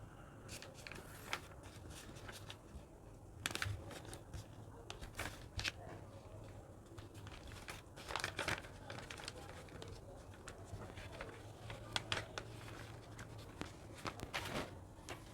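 A paper sewing pattern is folded and handled indoors, giving faint, scattered crinkles and soft rustling taps spread unevenly over a quiet background.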